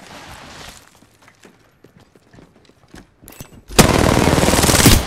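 Rapid automatic gunfire from a weapon in the shooter game Apex Legends, likely the R99 submachine gun: a few scattered mechanical clicks, then a sustained loud burst of close-range firing.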